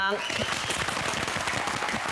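Studio audience applause at a Cantonese youth talk show, a dense, steady wash of clapping that stays loud and continuous throughout.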